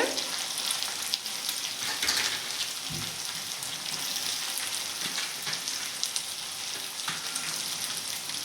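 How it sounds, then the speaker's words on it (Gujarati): Boiled potato pieces and onion frying in a pan for batata poha, a continuous crackling sizzle like light rain with occasional stirring scrapes and knocks, close and steady with no voices. "હવે આપણે બટેકાને ડુંગળીને મિક્સ કરી લઈએ"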